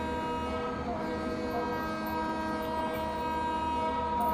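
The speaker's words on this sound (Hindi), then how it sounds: "लंबा सा हॉर्न देता हूँ बस" A WDP 4D diesel locomotive horn in the Trainz Simulator game sounds one long, steady, loud blast that holds for the whole stretch, rich in stacked harmonic tones over a low engine rumble, with no talk.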